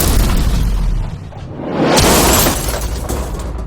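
A loud explosive blast from a shredder experiment involving a Lamborghini, a broad booming burst with shattering debris that swells and rolls on for several seconds with no talk.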